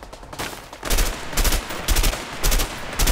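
Gunfire in the video game A Way Out: loud bursts of rapid shots in several volleys with short gaps between, close and punchy, with no talking.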